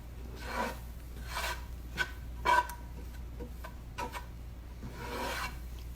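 A utensil scrapes and rubs against a skillet as flour is stirred into melted butter over medium-high heat, giving soft repeated rasping strokes over a low background hum, close and moderately quiet.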